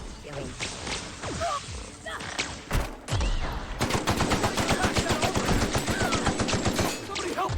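Gunfire in The Outer Worlds: a few scattered shots and impacts, then a long sustained burst of rapid automatic fire that rattles on loudly to the end, with a voice speaking over the earlier part.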